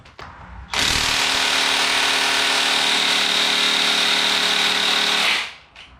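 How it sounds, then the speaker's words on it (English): A stout impact wrench hammers at stubborn cylinder head bolts on an engine for an NSX, one loud, continuous rattling burst of about four and a half seconds that starts abruptly and then winds down, close by, with no voices. "They ain't coming off with the impact."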